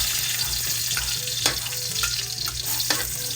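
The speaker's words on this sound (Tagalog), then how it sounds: "So magigisa na po tayo ng bawang at saka po sibuyas." Garlic and onion sautéing in a pan, a steady close sizzle with occasional stirring scrapes and clinks of a utensil, no talking.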